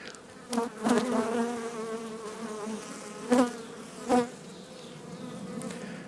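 Honeybees buzz steadily around an open hive on a farm, a dense close swarm drone with a few louder passes as single bees fly near.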